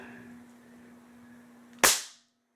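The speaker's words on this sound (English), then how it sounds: "Beeman Silver Bear, shot number 1." A single sharp, loud shot from a Beeman Silver Bear air rifle firing a .177 pellet cracks out after a low steady hum, its report decaying quickly into silence.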